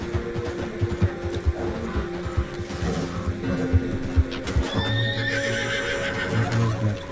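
An Arabian horse in Red Dead Redemption 2 neighs loudly near the end, after a steady clip-clop of hooves. Game music and ambience play underneath.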